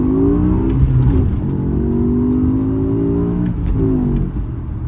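A 2007 BMW M5 with a 5.0L V10 and six-speed manual gearbox revving and accelerating under load, a loud close engine drone with pitch climbing and dropping through gear changes and manual rev-matched downshifts.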